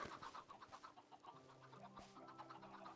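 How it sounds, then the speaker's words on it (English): Chickens in Minecraft cluck softly in short repeated bursts, quiet and close, with a faint background tone underneath. "Chickens there."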